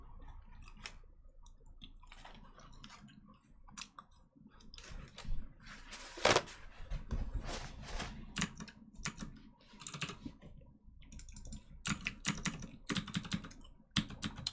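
Rapid keystrokes clatter steadily on a sensitive close microphone, a dense stream of computer keyboard typing with sharper clacks scattered throughout and no voices.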